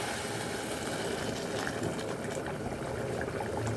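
Water poured into a cooking pot over rice, measured at two tumblers of water per tumbler of rice, making a steady continuous splashing and gushing wash that runs for a few seconds with no voices.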